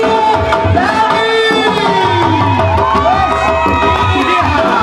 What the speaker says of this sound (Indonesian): sekali lagi berikan tepuk tangan juaramu Dewi.